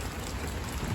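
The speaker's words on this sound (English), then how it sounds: "First it said it's nice, now it's raining." Steady rain falls outdoors during an evening dog walk, a continuous soft patter of drops on surfaces, even and close throughout with no talk.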